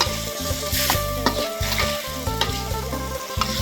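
Mushrooms stir-frying in a pan, loud bubbling sizzle with repeated rhythmic scrapes and knocks of a spatula stirring close by.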